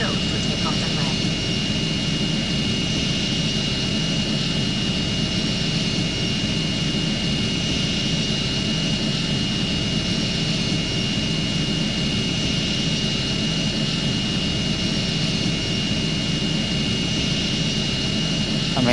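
The airplane engine in the Airplane Flight Simulator Evo video game makes a steady, loud jet-like drone with a constant rushing hiss that runs unbroken for about twenty seconds.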